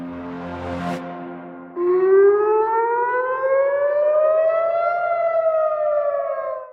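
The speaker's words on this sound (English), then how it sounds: "Sirens blare over Jerusalem as a barrage of missiles from Iran rains down." Air raid sirens over Jerusalem during an Iranian missile barrage: a loud civil defense wail starts after a brief burst of other sound, then holds a long, slowly rising and falling tone.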